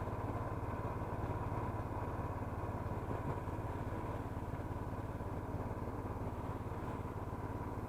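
A snowmobile engine runs steadily while driving over water on ice, a continuous mid-pitched motor drone heard at moderate distance without talk.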